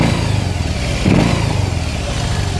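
A 2022 BMW R 18 Transcontinental's boxer engine rumbles loudly up close through Jekyll & Hyde exhausts, a deep continuous throb with a brief swell of throttle midway, and no talking.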